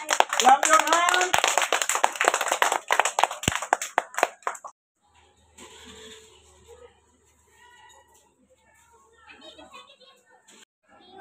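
Children clap their hands at a school Teachers Day celebration: dense, loud rhythmic clapping mixed with young voices for about four seconds, then quieter scattered sounds and faint chatter.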